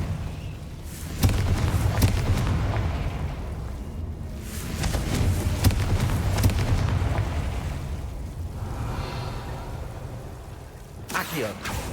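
Game-world fire explosions in Hogwarts Legacy from the Confringo spell, a string of booming blasts and bursts under ongoing spoken dialogue and combat noise, loud and fairly close, with a sharper crackling burst near the end.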